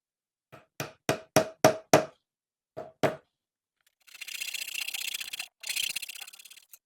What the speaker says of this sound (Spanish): aplicamos pegamento, introducimos las maderas, les damos pequeños golpes